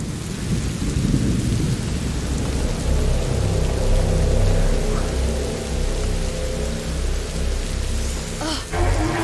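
Steady rain and rolling thunder fill a stormy scene in the video game A Plague Tale: Innocence, with a low continuous rumble under the downpour and a sharper crack of lightning near the end.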